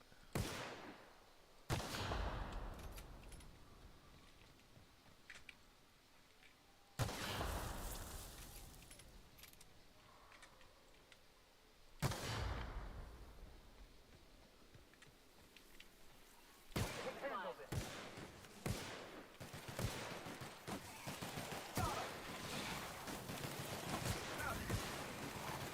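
Gunfire in the video game The Outer Worlds, several loud bursts of shots separated by quieter stretches, with a denser run of rapid shots toward the end and some talk mixed in.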